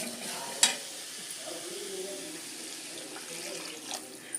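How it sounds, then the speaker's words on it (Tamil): Tomatoes and dal ingredients are stirred in a pan, giving a soft, continuous sizzle and scraping with a sharp clatter near the start, fairly close and without talk. "இப்போ இதெல்லாம் சேர்த்து ஒரு வதக்கிட்டு கொஞ்சமாக நம்ம தண்ணி விட்டு முதல்ல ஒரு 5 நிமிஷம் நல்லா வேக விட்டுடலாம்."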